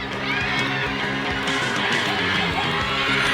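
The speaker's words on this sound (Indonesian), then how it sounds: "Kita berikan tepuk tangan" A large audience at a live event claps and cheers in a dense, continuous roar, with yells and whoops rising over it and a voice faintly underneath.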